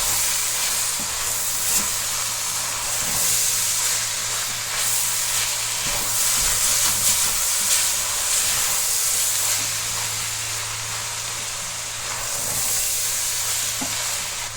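Meat stuffing with carrots and bell pepper simmers in a pan, giving off a steady, even sizzle and hiss that runs on without a break and with no talking.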